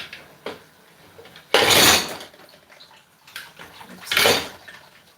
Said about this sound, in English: I am washing the dishes